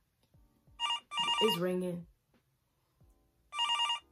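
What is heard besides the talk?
telephone ringing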